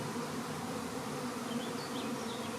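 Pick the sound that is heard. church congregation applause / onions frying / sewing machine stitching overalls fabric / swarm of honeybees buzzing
swarm of honeybees buzzing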